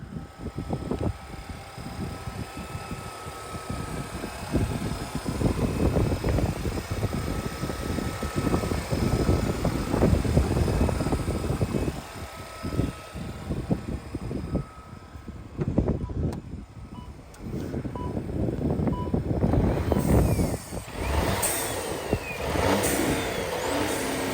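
A Lynk & Co 01's 1.5-litre three-cylinder engine revs steadily and loudly nearby, rising and falling through several throttle blips over a continuous idle rumble, with no talking.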